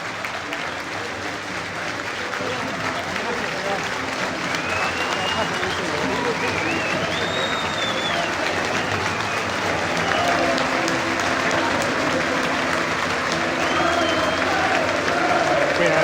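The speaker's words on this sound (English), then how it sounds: "Referee Andy Taylor's getting a bit of a booing on his way off." A football crowd after Everton's 2-0 win over Forest fills the stadium with a dense, continuous roar of jeering and noise aimed at the referee leaving the pitch, loud and sustained throughout.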